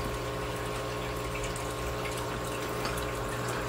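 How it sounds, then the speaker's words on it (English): A big home fish tank runs with steady pumped water flow and bubbling, a constant close, even wash of trickling liquid with no talking. "Big fish tank, lots of bubbles, lots of water flow."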